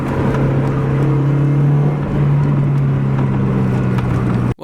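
A 1.6-litre Mazda Miata with a CorkSport catback and X-Force headers drones loudly and steadily through its exhaust, dropping pitch briefly as it downshifts, then cuts off abruptly at the end.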